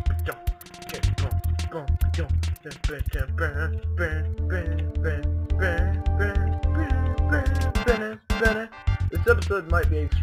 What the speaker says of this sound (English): We just don't want any other enemies but the mad ducks.